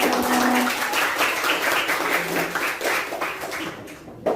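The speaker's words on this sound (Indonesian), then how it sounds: "Ayo tepuk tangan." Schoolchildren in an elementary classroom clap together, a busy, continuous patter of many small hands nearby that runs for about four seconds and trails off at the end, with no talk over it.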